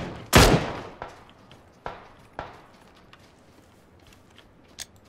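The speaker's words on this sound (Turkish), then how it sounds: "Biri sıkıyor." Gunfire in PUBG: one loud close shot followed by several sharper, fainter reports spaced irregularly over a few seconds, with low game ambience between them.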